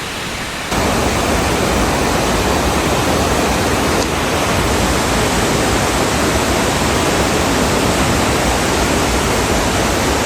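A North Bali waterfall roars in a dense, unbroken wash of loud, close water noise that holds steady throughout, with no voices heard.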